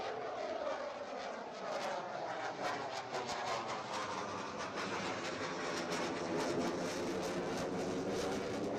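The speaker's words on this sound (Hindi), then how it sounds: "फाइटर जेट्स जब वहां पर निकल रहे हैं तो वहां पर गर्जना, जो आवाज़, वहां पर जो शोर है वो बहुत ज़्यादा है" Fighter jets such as Rafale, Sukhoi and MiG-29 roar steadily as they take off from the Ganga Expressway during an air force display, a sustained distant engine rumble with a sweeping pitch and no talk.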